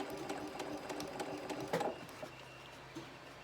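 Close, steady mechanical whirring of a sewing machine stitching quilt fabric for a Drunkard's Path block, with soft fabric rustles as the material is guided along and a short knock partway through.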